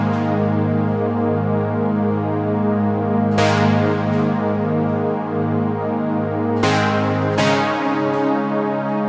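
An 80s-style synthpop verse built on sustained synth chords in a relaxed, spaced-out rhythm, with a few sharp crash-like hits breaking through, playing steadily at full level with no voices.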